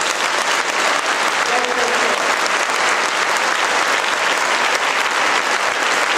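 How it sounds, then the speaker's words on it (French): An audience at a scholarship award ceremony applauds loudly and steadily throughout, a dense wash of clapping with no breaks. "acclamons très fort pour son enfant"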